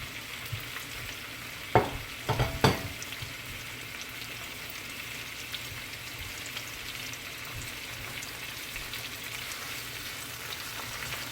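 Shrimp fry in two tablespoons of hot oil left from frying plantain, with a steady sizzle and a few sharp scraping clinks from stirring near the start, cooked Jamaica style.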